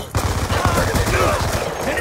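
Rapid gunfire from a Black Ops 2 firefight on the Slums map, dense overlapping shots with a steady rattling rhythm, loud and close throughout the whole moment.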